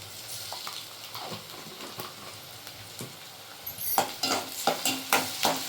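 Ginger garlic paste fries with onions for a mutton liver gravy. A quiet sizzle turns into louder, rhythmic scraping strokes of a spoon stirring the pan toward the end, with no talking.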